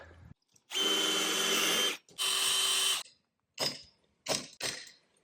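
A power drill bores holes for carriage bolts through a wooden beam, two sustained whirring runs of about a second each followed by three short bursts, close and loud with silence between.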